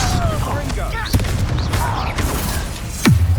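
A Bombarda spell explosion in the video game Hogwarts Legacy, during a battle cutscene: a heavy booming blast lands near the end amid a busy mix of voices, whooshes and scattered crackling impacts.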